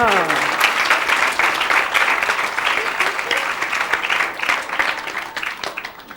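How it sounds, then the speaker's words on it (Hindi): Children at a satsang gathering break into lively applause, the clapping dense and bright from the start and gradually thinning toward the end, with some voices faintly mixed in. "तालियां।"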